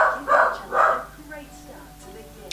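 A pet dog barks twice in quick loud bursts close by, followed by quieter yips and whimpers, during a casual indoor perfume collection haul.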